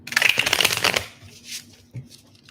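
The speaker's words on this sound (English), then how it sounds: "one more shuffle." A deck of tarot cards riffled in one quick close shuffle lasting about a second, crisp rapid flutter, followed by a couple of soft card taps in an otherwise quiet room.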